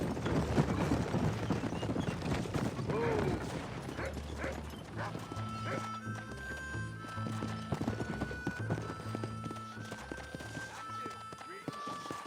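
Rapid hoofbeats from a horse race in the video game Red Dead Redemption clatter continuously with occasional whinnies, over a busy mix of music and crowd noise, loud and sustained throughout.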